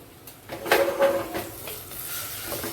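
Vegetables including eggplant and peas are stirred in a pot for masala khichdi, giving a brief scraping, sizzling mix of moderate loudness that swells and then settles into a steady hiss.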